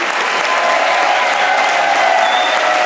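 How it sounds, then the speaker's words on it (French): An audience at a gala evening celebrating twenty years of Initiative Savoie gives a sustained, loud round of applause, a dense wash of clapping that holds steady throughout without pause. "Alors j'aimerais un tonnerre d'applaudissements."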